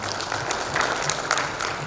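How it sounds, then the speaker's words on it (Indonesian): An audience at a public information session applauds, a loud even patter of many hands clapping with a few sharper claps standing out, and no talk over it. "Tepuk tangan dulu."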